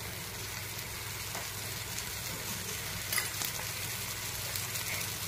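A carrot and cucumber paratha fries in oil on a pan, giving a faint, steady sizzle and crackle with no talking.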